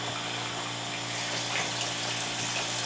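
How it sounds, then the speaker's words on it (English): Water pours steadily from a hose into a portable dual twin tub washing machine, a continuous loud rushing and splashing with a faint steady hum underneath, no pauses and no voices. "I can turn on the water and my machine is filling"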